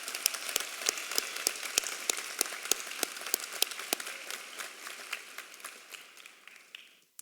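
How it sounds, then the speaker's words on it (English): A large audience at a high school commencement ceremony applauds steadily, with a few sharp, close claps standing out early over the broad patter, which thins and fades away near the end. "Let's give all those folks another round of applause."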